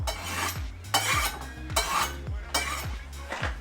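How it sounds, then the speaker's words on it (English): A knife sharpened on a Spyderco triangle knife sharpener in a kitchen, with about six rhythmic metallic scraping strokes at a steady pace, close and moderately quiet, with a faint low sizzle behind. "we're going to go to town on our knives with the Spyderco triangle knife sharpener"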